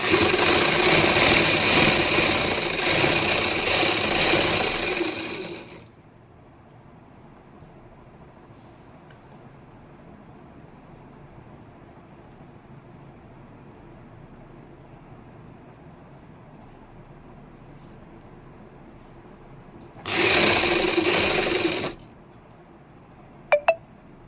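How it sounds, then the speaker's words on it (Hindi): A sewing machine stitches the lining of a kameez in two bursts: a long, steady run at the start, then a short second run after a long quiet pause, with a couple of faint clicks near the end. "तो इस तरह से करेंगे, इन धागों को अंदर करते हुए सिलाई लगा लेंगे।"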